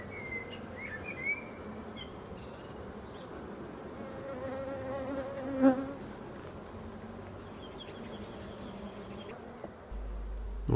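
Honey bees buzz continuously at an open hive with a young colony, a dense close drone with a few louder passes near the microphone and faint bird chirps in the background.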